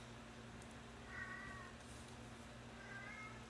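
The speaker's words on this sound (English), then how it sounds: "my kitty's meowing" A cat meows twice, faint and somewhat distant, the two cries separated by a pause over a low steady hum.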